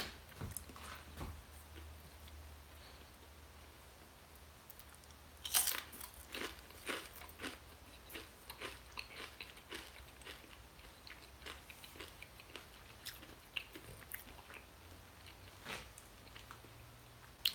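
Crisp, crunchy bites followed by steady chewing, close up and fairly quiet, with sharp crackles at irregular intervals.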